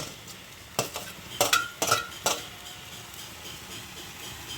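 A tomato goes into a pan of herbs softening over low heat for a sugar cane herbs curry, giving a few quick sizzling bursts and clatters of stirring over a faint, steady fry.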